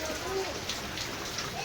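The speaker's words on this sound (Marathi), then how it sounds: "इकडं कंटिन्यू पाऊस चालू आहे." Continuous rain in Pune, a steady even hiss throughout, near and moderately loud, with no pauses.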